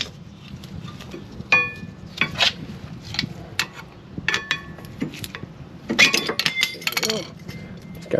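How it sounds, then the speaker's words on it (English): Old rear brake pads from a Honda Element clink and rattle against metal in a garage, a series of sharp, irregular taps and jingles up close while a person talks intermittently. "So these are the old brake pads."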